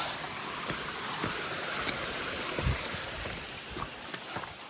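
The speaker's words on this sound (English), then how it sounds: "water is flowing through here. That was a little tiny cascade or waterfall there." A small stream cascading over rocks beside the Pacific Crest Trail, a steady close rush of splashing water with scattered footstep-like thuds, continuous and fairly loud throughout.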